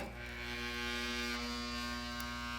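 A homemade spot welder fires a single weld shot, giving a steady, loud electrical buzz with strong hum tones that holds for a couple of seconds, close by and alone.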